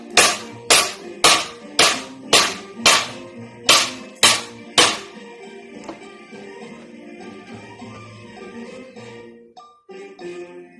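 A custom-made knife chops into hard wood: about nine sharp, loud strikes land in a quick, even rhythm, followed by several seconds of quieter scraping and handling sounds.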